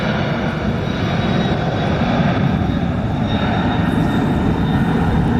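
Boeing 767 jet engine roaring at an airport at night, a steady, loud broadband rumble that holds throughout with no voices.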